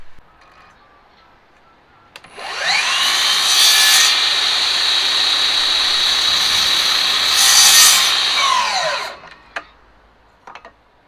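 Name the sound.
cutting wooden stair spindle tops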